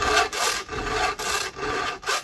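A chainsaw chain is sharpened with a hand file, making a rhythmic, close, raspy scraping in short regular strokes, about two per second, with no voices.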